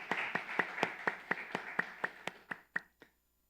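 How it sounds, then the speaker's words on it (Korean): A church congregation claps together during a Sunday worship service, about a dozen sharp, evenly spaced claps in a steady rhythm that end abruptly, close and clear with no talking. "만복의 근원 되신 우리 하나님 앞에 영광의 박수를 올려드립시다"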